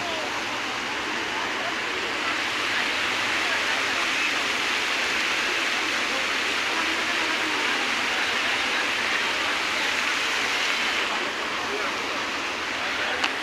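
Water rushes steadily at KLCC in Kuala Lumpur, a dense, even roar like a fountain or cascade that holds constant throughout, with a faint murmur of people beneath it.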